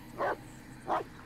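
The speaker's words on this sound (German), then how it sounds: "Und er bellt." A dog barks twice in the Blair Witch horror video game, two short muffled woofs about half a second apart over quiet forest ambience.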